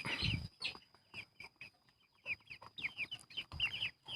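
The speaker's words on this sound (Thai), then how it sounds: "นี่ครับลูกไก่นะครับ" Baby chicks cluck and peep in short, scattered bursts, with high chirps repeating close by over a steady faint hum.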